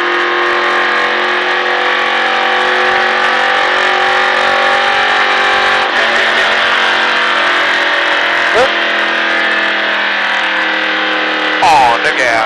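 A NASCAR race car accelerating around a track, its engine droning loud and close with steady harmonic tones while an instructor talks over it.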